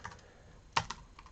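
Typing a domain name on a computer keyboard, with a few soft keystrokes and one sharper clack near the middle, close and quiet with no talking.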